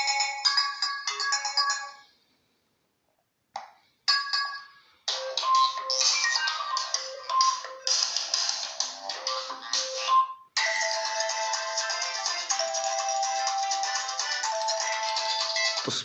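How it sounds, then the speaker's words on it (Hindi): Itel A48 phone playing ringtones through its built-in speaker, a bright melodic tone that cuts off, then a short break before further loud, steady electronic tunes play alone. "कुछ रिंगटोन्स को चला के देख लेते हैं कि यहाँ पर स्पीकर की कैसी क्वालिटी आपको मिलती है"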